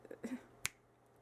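A single sharp finger snap, close and crisp, lands after a few soft rustles in a quiet room where someone is sewing a strawberry shirt.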